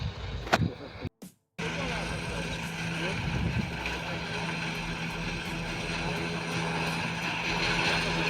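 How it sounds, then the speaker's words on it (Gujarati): A tractor works a cotton field alongside a cotton-cutting harvester, hauling cut cotton stalks; its close engine gives a steady, loud drone that drops out briefly near the start and then runs on unbroken. "ટ્રેક્ટર આવી રહ્યું છે"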